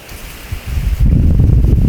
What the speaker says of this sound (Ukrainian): Ой, вітер